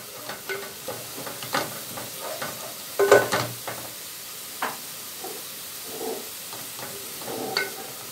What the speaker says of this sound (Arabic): اهي يا حبايبي البصله خلاص قربت تحمر اهي